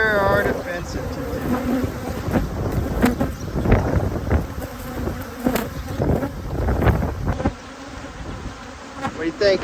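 A defensive honeybee swarm buzzing around an open commercial hive, loud and close with a constant droning hum, wind gusting over the microphone, and individual bees zipping past near the mic.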